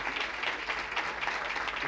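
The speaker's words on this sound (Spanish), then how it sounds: "te voy a dar un aplauso" Steady applause from a conference audience, an even wash of clapping heard from a distance, continuous and fairly soft throughout.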